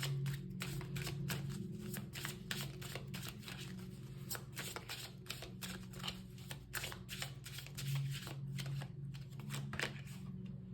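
Animal oracle cards being shuffled by hand, a steady run of soft papery riffles and slaps close by, layered over a constant low hum throughout.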